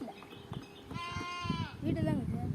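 Lambs or young goats bleat several times close by, a wavering cry rising over nearby chatter as people talk throughout.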